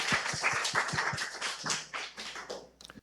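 A church congregation claps in encouragement during a Sunday service, many hands beating roughly in unison in a steady rhythmic pulse that loosens and fades out toward the end.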